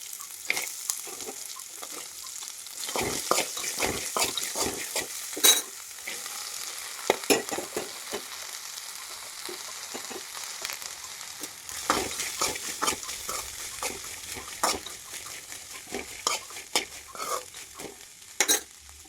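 Long beans fry in a hot pan with a constant soft sizzle, broken by repeated scraping and clinking strokes of a spoon. The stirring hits come irregularly and the beans sound close, with no voices.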